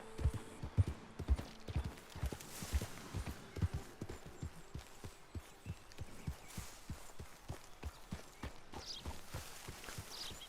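A Shire horse walks in Red Dead Redemption 2, its hooves clip-clopping in a steady, even rhythm of close, crisp hoofbeats throughout.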